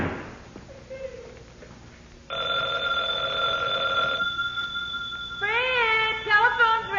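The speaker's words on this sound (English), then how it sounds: "telephone's ringing" An old-time radio comedy's telephone bell rings in bursts, first one long sustained ring then another after a short gap, moderately loud with a faint tone earlier and no speech.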